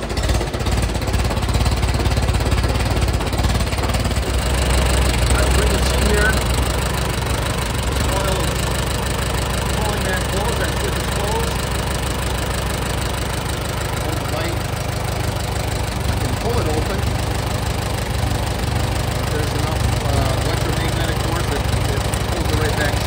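A 1947 Allis-Chalmers B tractor's six-volt engine runs close by with a loud, rough, knocking chug, steady for the whole stretch, while someone talks over it.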